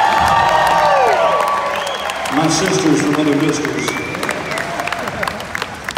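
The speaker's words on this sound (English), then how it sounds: "please make a big round of applause for the Tonettes" Audience at a Dean Z comedy show applauds and cheers for the Tonettes, a loud crowd roar with whoops that gradually thins while a performer talks over it.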